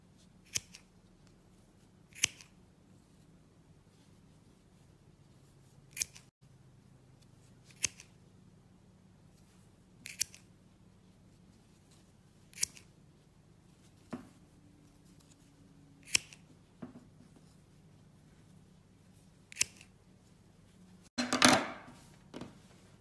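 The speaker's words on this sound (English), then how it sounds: "And then what I do with my scissor is that I just snip the center of each knot." Scissors snipping through the knots of macrame cord on a coaster, about a dozen sharp isolated clicks spaced a second or two apart, close and quiet, with a busier rustle near the end.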